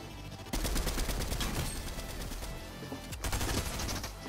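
Dense, loud bursts of rapid gunfire from the Fortnite video game fill the stretch, with a brief pause and then a fresh volley near the end; no talking.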